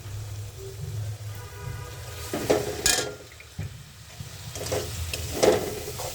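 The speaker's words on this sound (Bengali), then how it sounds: "ভালো করে মাছটা সুন্দর করে মশলার ভিতরে কষিয়ে নেব।" Fish sizzles as it is sautéed in spices in a pan, with steady frying hiss and crackle broken by clanks and scrapes of a utensil stirring against the pan, heard up close.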